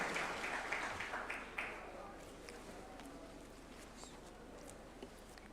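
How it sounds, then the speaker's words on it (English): Audience at a judges' swearing-in ceremony at State House, Nairobi, giving a soft, scattered round of applause that fades to light clapping, with a voice speaking over it. "A round of applause, please, as she approaches the swearing-in arena"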